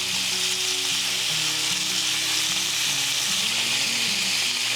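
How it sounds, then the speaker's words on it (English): Raw, tail-off Costco shrimp sizzle and fry in a hot stir-fry pan, a steady, loud hiss of cooking fat that runs throughout with no voices. "put my shrimp in, and we're going to cook it until it is pink"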